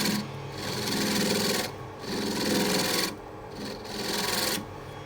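Scraper cutting a chestnut bowl spinning on a lathe, a loud continuous raspy scraping in three long passes separated by brief pauses, close and alone without talk.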